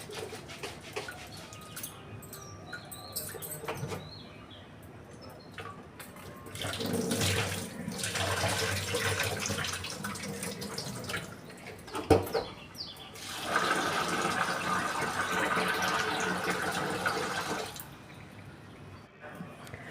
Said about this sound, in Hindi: थोड़े थोड़े पानी में मसल के दाल को हम साफ़ कर लेंगे।